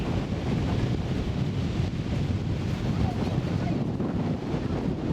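Strong wind roars across the microphone at a high overlook above a river in Wyoming, a constant, heavy rush with a dull rumble underneath and no letup.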